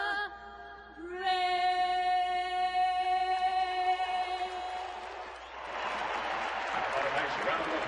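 At a Milwaukee at Arizona baseball game, a sustained sung final note gives way to broad, steady crowd applause and cheering that fills the stadium for the last few seconds.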